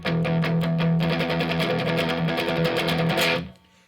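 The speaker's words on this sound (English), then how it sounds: "that's your distortion, gain, or overdrive." Electric guitar with heavy distortion and overdrive, played as rock chords in a loud, sustained, buzzy wall of sound that rings steadily for about three seconds and then cuts off into near silence.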